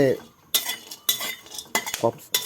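A utensil scrapes and clinks against a pot while wild fruit cooks inside, in several close, loud bursts of stirring separated by brief pauses.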